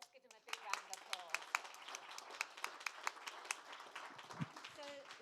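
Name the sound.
audience applause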